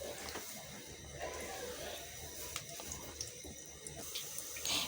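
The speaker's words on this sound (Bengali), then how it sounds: "এখন গরম তেলের মধ্যে দিয়ে দিচ্ছি" A paratha stuffed with cooked beef and pre-boiled potato fries in hot oil in a pan on the stove, giving a steady, close hiss and sizzle with a few small pops throughout and no talking.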